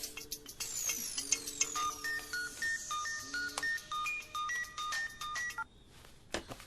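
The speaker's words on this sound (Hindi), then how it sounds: "अरे यार, फोन तो उठा।" A mobile phone ringtone plays a repeating electronic melody of bright beeping tones, loud and close, cycling several times before cutting off.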